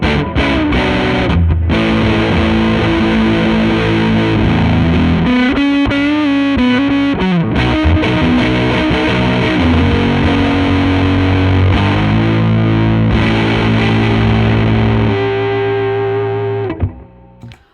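An electric guitar plays through a Benson Deep Sea Diver fuzz-echo pedal set for short slapback echo, producing loud, thick distorted chords and riffs with quick repeats, sustained throughout before cutting off at the end.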